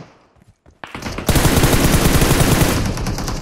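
Loud, sustained automatic gunfire in the PUBG Mobile battle royale shooter, breaking out after a few faint clicks and rattling on as rapid, dense bursts close to the listener.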